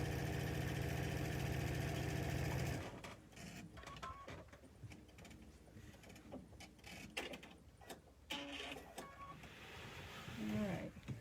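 A Brother BQ3050 quilting machine fitted with a Mu-vit foot stitches a quilt, a loud steady mechanical whir at first, then quieter uneven motor runs and soft handling noises with a person talking.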